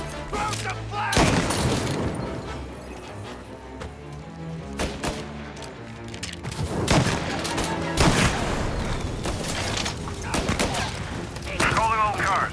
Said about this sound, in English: Reports of gunshots rolling in.